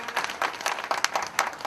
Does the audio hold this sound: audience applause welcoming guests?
yes